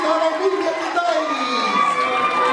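Crowd cheering and shouting at the crowning of a carnival queen, a dense, continuous roar of voices with children's shrieks mixed in, loud and steady throughout.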